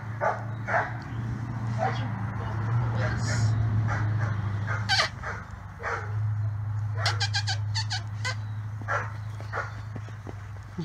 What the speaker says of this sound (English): The little dogs are checking them out.